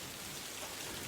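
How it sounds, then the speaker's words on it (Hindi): Heavy downpour at night, a dense, steady hiss of rain pouring down without pause, even and enveloping throughout. "आसमान से मूसलाधार बारिश बरस रही है।"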